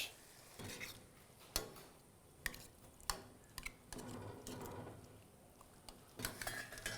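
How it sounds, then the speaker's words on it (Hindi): Soft squishing and scraping as boiled potatoes are mashed in a pan, with occasional sharp metallic taps of a utensil, quiet and close, no talking. "आलूओं को अब हल्का सा कर लीजिए मैश।"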